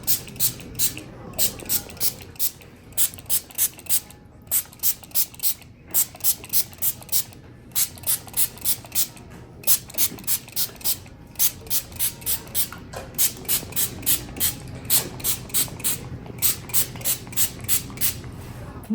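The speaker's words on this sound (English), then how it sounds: "So we just get a regular water bottle and we just spray it down." A spray bottle squirts in quick rhythmic bursts, many pumps in a row with short pauses, close and crisp.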